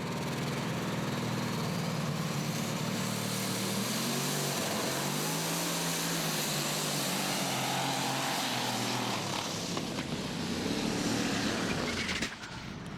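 Running Bear, a pulling tractor with a big V8 that won the 2014 championship, driven by Jeff Hurt, runs loud and continuous under load, missing and stumbling, with a rough droning roar that stays strong for most of the pass before cutting back near the end.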